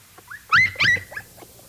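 A wolf cub whimpers in a few brief, high, wavering whines, close and clear, with quiet between the cries and no talking.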